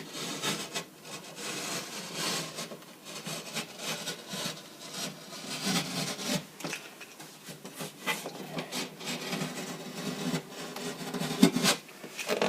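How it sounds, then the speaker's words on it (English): A utility knife scores a line across drywall, giving a close, continuous dry scraping and rasping with small uneven surges and no talk. "So we'll just score along that line."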